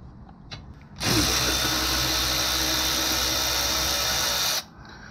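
A power tool backs out the rear brake caliper bolts on a Subaru Legacy with a loud, close whir that lasts about three and a half seconds, then cuts off into quiet shop ambience.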